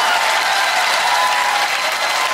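Studio audience at a Russian New Year variety show applauds loudly and steadily, a dense continuous wash of clapping with no break.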